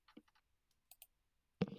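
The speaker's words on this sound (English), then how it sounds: "Loud typing." A few quick, light keystrokes click on a computer keyboard in short sparse bursts, ending in a louder clack, near and otherwise quiet.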